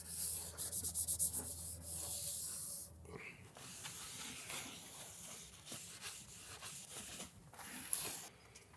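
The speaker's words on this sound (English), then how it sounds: "Clean her up a little bit before I put the new gasket on." Close scraping and rubbing sounds from cleaning a car engine's gasket surface before fitting a new gasket, an uneven hissy scrubbing that continues for several seconds at moderate volume with no talking.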